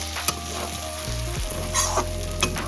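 Mutton fat ghugni with minced mutton fries loudly in a pan while a spatula stirs and scrapes through it, close up, with intermittent scraping knocks over the constant sizzle.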